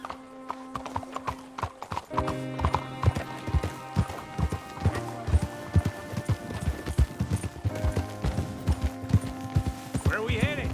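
A horse gallops in Red Dead Redemption 2, with rapid rhythmic hoofbeats loud and close, and a brief neigh near the end amid game ambience.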